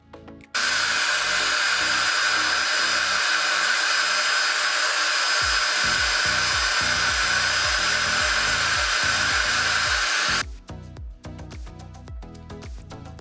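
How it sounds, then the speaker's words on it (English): A hair dryer blows with a steady, loud whirring hiss for several seconds, then cuts off, leaving some faint clicks and handling noises. "I use hand dryer to heat it"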